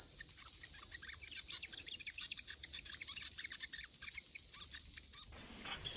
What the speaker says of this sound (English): as you can hear, the cicadas are out.